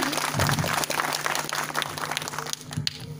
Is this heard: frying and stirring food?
no